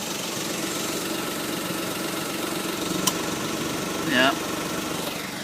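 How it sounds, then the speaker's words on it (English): A Smart car's 3-cylinder gasoline engine idles with a steady, diesel-like chug, a continuous low rumble up close, with a brief tonal sweep near the end. "There's just something about a 3-cylinder gasoline engine that just has this diesel sounding chug to it"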